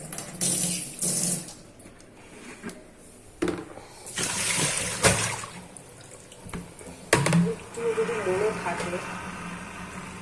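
A school uniform is washed by hand, with water running, splashing and sloshing in uneven bursts close by, while someone talks over it.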